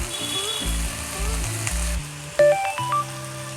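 Amaranth leaves and toor dal fry in a pan with a steady close sizzle, while a few clinks and scrapes of stirring cut in partway through.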